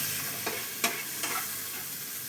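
Spice paste with salt and a splash of water sautés in a pan for a rohu fish curry with spinach, a soft steady sizzle broken by a few quick scraping stirs.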